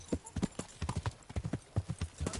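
Horse hooves gallop in a medieval video game, a fast, steady clip-clop rhythm of heavy thuds that carries on without a break, close and fairly loud.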